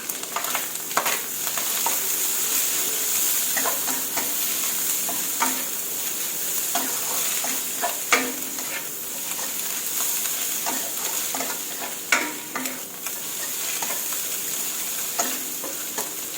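Bamboo shoots and egg stir-fried in a pan with sugar, a continuous loud sizzle with frequent spatula clacks and scrapes against the pan over a long stretch, no voices.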